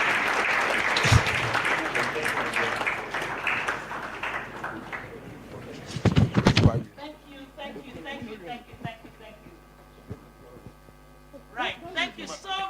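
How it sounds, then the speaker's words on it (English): An audience applauds at the launch of Ghana's National Urban Policy (2026-2035). Dense clapping fills the first half, swells again in a brief burst, then fades as a voice speaks over a quiet hum. "Give them another warm round of applause."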